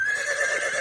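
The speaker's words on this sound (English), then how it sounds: "New bells, whistles, and horse neighs." A horse neigh sound effect plays as a bulletin sting, a single continuous whinny held for under a second at steady loudness with no talk over it.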